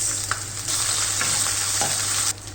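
Two red chilies crackle in hot oil, followed by onions sizzling, a steady close broadband frying hiss with scattered pops and stirring scrapes that cuts off abruptly near the end; no voices.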